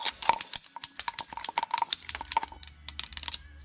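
Scissors snip soft plastic fishing baits into small pieces, giving quick, uneven runs of crisp close-up clicks and cuts.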